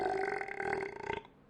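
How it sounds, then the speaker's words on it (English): A single loud, drawn-out human belch rumbles close to the microphone for over a second, with a tonal, croaky quality before cutting off abruptly into near silence. "Sorry about that disgusting belch."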